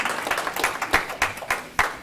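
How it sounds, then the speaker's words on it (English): Audience applause at a board meeting, several bursts of clapping rising and falling over about two seconds, moderately loud in a hall with a faint voice underneath. "You might want to wait until the clapping dies down"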